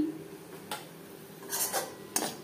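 A metal spoon clinks and scrapes against a pan and bowl as cooked potato and cauliflower curry is served, in a few separate close knocks over quiet room tone.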